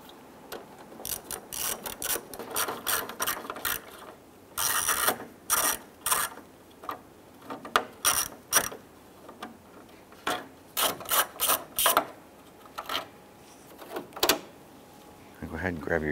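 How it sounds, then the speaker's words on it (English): A ratchet with a 7 mm socket backs out grille screws on a 1995-2001 Ford Explorer, giving close, loud bursts of rapid clicking in repeated strokes with short pauses between them. "Remove the 4 screws along the top of the grill using your 7 millimeter socket."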